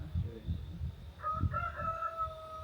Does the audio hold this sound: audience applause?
no